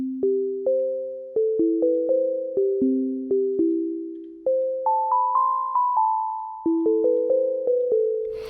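Elektron Digitone synth running its default initial patch with a clean sound: a steady sequence of short, bright plucked notes stepping through a simple melody, each decaying quickly, with no voice.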